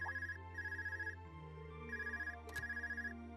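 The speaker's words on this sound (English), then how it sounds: "Who's ringing me?" A telephone rings in the role-playing game Trails of Cold Steel 2, with bursts of rapid electronic trilling that repeat in a steady pattern over a low background tone, with no talk.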